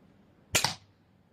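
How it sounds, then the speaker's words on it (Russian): A Mamba Aggregator crossbow is shot once, giving a single sharp, close snap and thump that stands alone against quiet surroundings. "даже обычная девочка может стрелять из арбалета."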